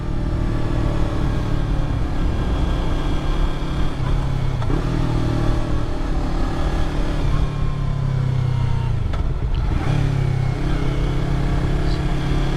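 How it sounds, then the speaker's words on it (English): Yamaha R3 motorcycle engine running steadily and climbing in revs with a continuous loud, buzzing tone, no talk. "Once I get higher and higher and higher, the bike starts to scream."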